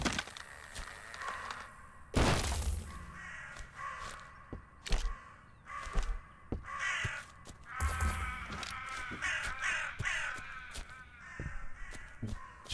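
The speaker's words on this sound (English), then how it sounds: "friggin' birds are obnoxious" Crows caw repeatedly in the farming horror game We Harvest Shadows, with harsh calls in irregular bursts over a quiet background and occasional soft thumps.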